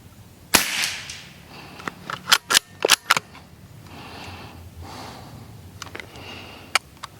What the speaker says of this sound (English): I'm going to shoot a quick another 10-shot group, record chrono this time around